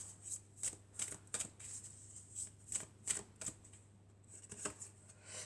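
Tarot cards are shuffled and handled in a quiet room, giving a series of soft, crisp flicks and riffles spaced irregularly over several seconds, with no talking.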